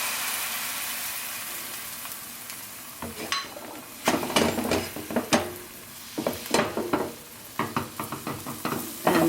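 Garbanzo bean paratha batter, about half a cup, spooned into a hot pan, giving a steady close sizzle with sharp clatters and scrapes of a utensil against the pan throughout, no voices.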